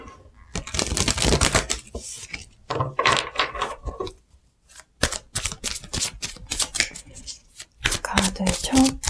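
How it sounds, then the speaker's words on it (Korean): Tarot cards shuffled by hand in a series of dense, papery riffling bursts with short pauses between, fairly close and moderately loud, with no talk over them. "카드를 좀 셔플을 해보고"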